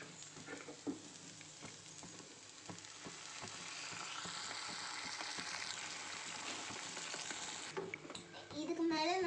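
Beaten eggs with pepper and salt for a red spinach omelette hit a hot pan, giving a steady close sizzle that swells and holds, with scattered utensil taps and a brief clatter near the end.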